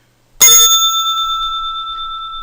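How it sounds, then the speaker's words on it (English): A small bell is struck once sharply and close, its bright metallic ring sustaining and slowly decaying with a gentle wavering shimmer over a couple of seconds, with no talking. "this bell's for you"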